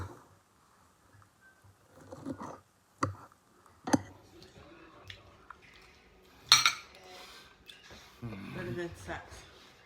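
Cutlery clinks against a plate as someone takes a bite of hamburger steak local katsu made with Big Island grass-fed beef and Hamakua mushroom brown gravy, with a few sharp taps and soft chewing sounds scattered through quiet moments.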